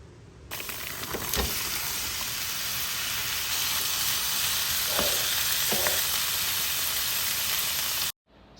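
Green beans and carrots hit hot oil in a pan, and a loud, steady sizzle rises at once and holds with a few knocks of stirring before it cuts off abruptly, with no talk.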